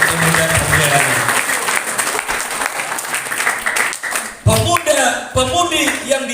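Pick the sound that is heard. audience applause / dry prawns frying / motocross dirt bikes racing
audience applause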